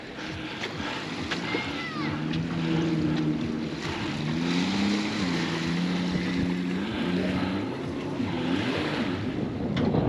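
Jet skis ride on the sea below a cliff in North Wales, their engines droning and wavering in pitch over steady surf and wind, with music from a stereo faintly mixed in, heard from a distance.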